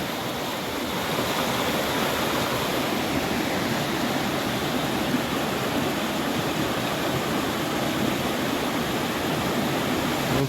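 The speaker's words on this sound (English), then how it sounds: "Pretty brook." A pretty brook flows beside the Appalachian Trail near Sherman Brook, giving a steady, dense rush of water that stays loud and unbroken throughout, close by, with no voices.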